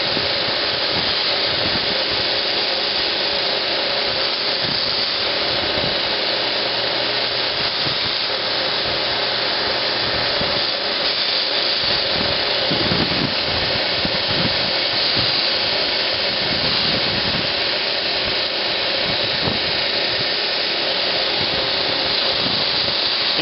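A belt sander deburrs sheared metal edges, a continuous close, harsh whirring grind with slight fluctuations as the workpiece is pressed against the belt.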